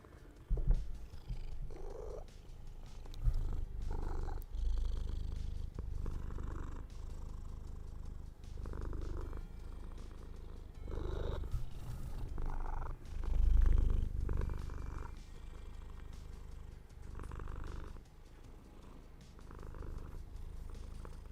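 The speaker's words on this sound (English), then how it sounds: "My gift to you is the sound of her purrs." A cat purrs softly and steadily up close, a low rhythmic rumble pulsing with each breath, continuing without a break for a long stretch.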